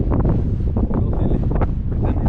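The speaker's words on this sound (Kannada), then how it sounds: "ಬರ್ತಾ ಬರ್ತಾ ಗಾಳಿ ಬಡಿತಾನೂ ಜಾಸ್ತಿ ಆಗ್ತಾ ಇದೆ" Strong wind on the Kumara Parvatha mountain trek buffets the microphone with loud, constant rumbling gusts.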